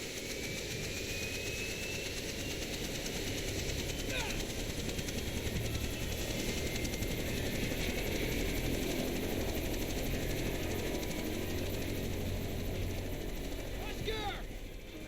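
A helicopter in flight in the video game Jurassic Park: The Game, a steady loud rotor and engine drone filling the whole stretch with mechanical rattle and brief higher whines.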